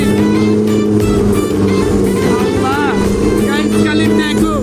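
A speedboat engine drones steadily and loudly at Cox's Bazar, with wind and water rushing past and voices shouting over the roar.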